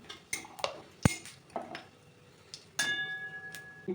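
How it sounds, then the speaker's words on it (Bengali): Dried chillies, fennel seeds and radhuni tempering in hot mustard oil get stirred in a pan: scattered metallic clinks and scrapes of a spoon against the pan, a few sharp and close, with no clear sizzle. "ফোড়নের জন্য দেবো 1/2 চামচ রাঁধুনি, 1/2 চামচ গোটা মৌরি ও 2টো শুকনো লঙ্কা। একটু নাড়াচাড়া করে নেব।"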